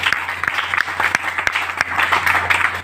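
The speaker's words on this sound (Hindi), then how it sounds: "और एक बार जोरदार तालियां आपको संजय जी" Loud audience applause at an organic agriculture training event in Rampur, dense crowd clapping with a few sharp individual claps standing out, sustained over a low background hum.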